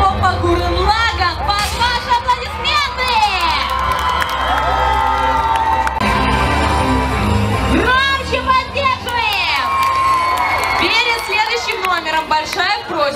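A crowd at an outdoor cosplay show in Odessa's city garden cheers and shouts loudly. The cries are excited and high, with children's voices among them. An announcer's voice rises over the noise at moments.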